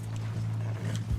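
Horse hooves clip-clop at a walk in the video game Red Dead Redemption 2, a few soft, brief thuds over a constant low hum of game ambience.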